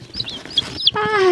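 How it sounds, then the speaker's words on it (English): Chickens in a chicken coop give several quick, close clucks, ending in a louder, drawn-out call. "So we're heading out to the chicken coop right now."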